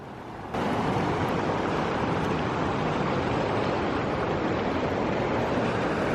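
Fast-flowing river water at Rishikesh roars as a loud, steady broadband rush that fills the whole stretch after a brief quieter start, with no voices.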